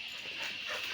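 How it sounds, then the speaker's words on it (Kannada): A village house dog lets out a quick, faint whimper with a small yip, a single brief outburst heard from a short distance. "ನೋಡು ಅವ್ರ ಮನೆ ನಾಯಿನೂ ಅಲ್ಲೇ ಇತ್ತು"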